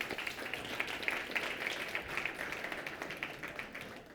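An audience at a tech awards ceremony in Montreal applauds for the finalists, a soft, distant and continuous patter of clapping without pause.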